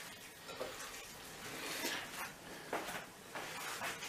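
Minced meat with allspice being stirred in a pan: soft sizzling with scraping strokes of a spoon repeating every second or so, quiet and close, no talking.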